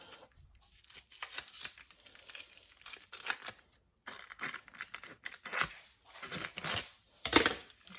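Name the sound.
scissors cutting open plastic packaging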